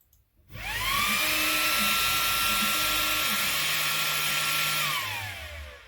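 A laser engraver's head travels around the job outline to frame it, giving a loud, close motor whine with gliding pitch sweeps that runs steadily for about five seconds.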